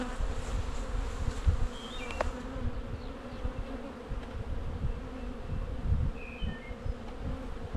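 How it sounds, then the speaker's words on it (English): Honey bees being shaken into a hive box in a fast-growing colony, a steady close buzzing drone of many bees throughout with low rumbling handling noise underneath. "shake a few bees in"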